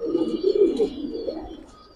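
A pair of silver pigeons coo in low, rolling phrases, close and fairly loud, with a fuller burst in the first second before the calls soften and trail off.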